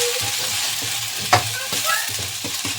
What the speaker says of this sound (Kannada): ಶುಂಠಿ ಬೆಳ್ಳುಳ್ಳಿ ಪೇಸ್ಟ್ ಹಾಕ್ಬಿಟ್ಟು ರೋಸ್ಟ್ ಮಾಡ್ಕೊತಾ ಇದೀನಿ.